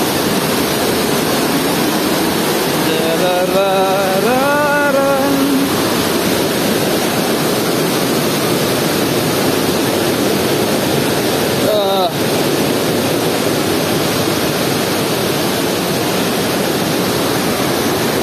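Loud, constant roar of rushing water at Wawa Dam, dense and unbroken throughout, with faint voices briefly audible underneath.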